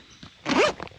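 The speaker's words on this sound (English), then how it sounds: "it's zipper stuck on something" A backpack zipper being pulled open in a single quick rasping stroke, close and clear against a quiet outdoor background.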